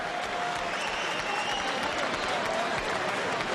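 A boxing arena crowd claps in a dense, steady round of applause at a 1996 heavyweight bout between David Tua and John Ruiz, sustained and even throughout with general crowd noise beneath.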